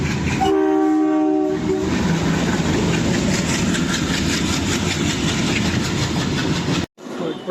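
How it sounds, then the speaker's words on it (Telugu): A goods train near Alappuzha sounds a short blast of its horn, then keeps rolling by with a loud, steady rumbling clatter before the sound cuts off abruptly. "చాలా రోజులైంది గూడ్స్ ట్రైన్ చూసి."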